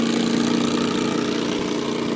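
A small boat engine with a lawnmower-like sound runs near a riverbank, a loud, steady, buzzing drone held close throughout.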